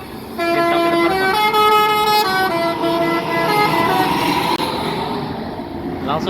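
Transport Express intercity bus pulling out of Bukit Surungan terminal, its loud multi-tone horn blaring in repeated blasts over steady engine rumble and terminal noise.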